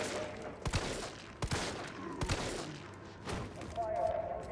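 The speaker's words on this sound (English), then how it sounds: "Gunshots for everybody." Gunfire in Resident Evil 3 on PC, several sharp loud shots spaced irregularly, some in quick pairs, with a voice talking between them.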